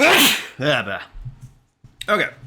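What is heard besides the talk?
sneeze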